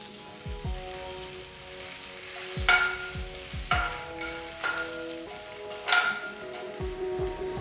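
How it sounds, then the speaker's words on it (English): Mustard seeds, red chilies, asafoetida and curry leaves sputter and crackle in hot oil for a plantain fry, steady sizzle with sharp pops and occasional stirring clatter, close and alone. "once the mustard seed starts splattering, just add the pieces"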